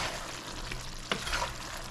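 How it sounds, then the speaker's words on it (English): Shallot and green onion fry in a pot with a steady soft sizzle and a brief clink of a utensil partway through, close and quiet, with no talking. "Put in some shallot,"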